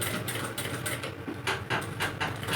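Sewing machine stitching a kurta placket, a steady run of rapid mechanical needle clatter with short pulses and brief pauses, close and fairly loud, with no voices.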